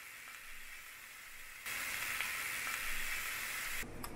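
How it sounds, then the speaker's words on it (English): Steady broadband hiss of riced cauliflower frying in a pan, growing louder partway through, continuous with no voices. "We'll pop it into the pan, see if we can crisp it up a bit."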